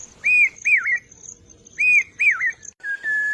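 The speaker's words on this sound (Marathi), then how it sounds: "भात शेतीच्या मळ्यावर पावसा पक्षी त्याच्या मधुर स्वरात जणू पेरते व्हा पेरते व्हा अशी साथ घालतोय" A bird whistles a clear, rising-and-falling phrase, repeated in pairs with short pauses, loud and close against a quiet background, over rice paddy fields in the Sahyadri in monsoon.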